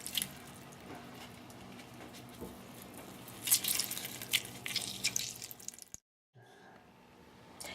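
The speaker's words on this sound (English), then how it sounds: "Just take these and squeeze your orange juice right over." Juice from a hand-squeezed navel orange drips and patters into a bowl, a close, moderately soft trickle that swells in the middle and ends abruptly in near silence.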